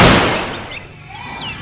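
A single sharp toy Glock pistol pop at the start, loud and close, trailing off into a fading hiss with faint chirpy electronic tones afterward.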